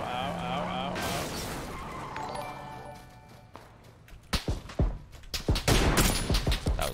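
Video game gunfire in PUBG cracks in rapid bursts in the second half, loud and close, following an earlier stretch of game sounds and talk.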